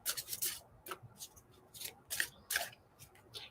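Playing cards are shuffled by hand, with a series of quick, crisp riffling and rubbing bursts close by in an irregular rhythm, with no talking.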